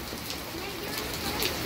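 Steady rain pours down outdoors while a child bathes in it, a constant broadband hiss with scattered drop patter, close and even throughout.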